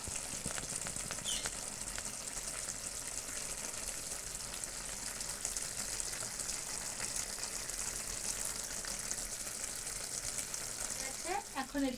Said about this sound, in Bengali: এখন আমি এটা একটু ফুটতে দেবো।